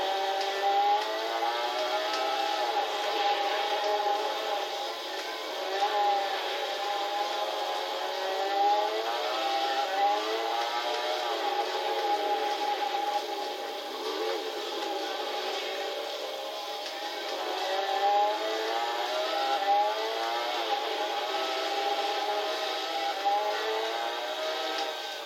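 A Peugeot 205 T16 Evo 2 rally car engine in Gran Turismo 6 drones steadily at moderate volume, its pitch wavering up and down as the revs rise and fall over a long stretch.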